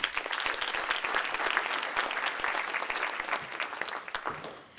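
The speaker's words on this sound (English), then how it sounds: "let's give a round of applause for that also." A crowd claps at a United Way of Washington County team celebration event in a dense burst of applause that holds steady and then fades out toward the end.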